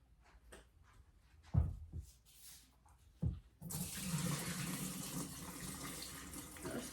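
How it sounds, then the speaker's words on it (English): Vinegar water is poured off raw chicken in a home kitchen. A few soft knocks and splashes come first, then a steady, close rush of pouring water runs on to the end. "So we're gonna pour this water off."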